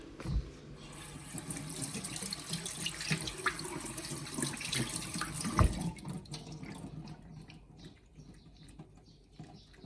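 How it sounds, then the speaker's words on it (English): Tap water runs steadily over mushrooms being rinsed in a sink, a continuous splashing wash with a few louder spatters midway, fading quieter toward the end. "Rinse mushrooms and drain out excess water"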